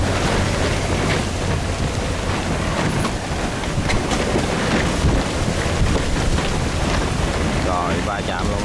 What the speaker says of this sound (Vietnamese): bây giờ gió thổi nó bị bơi.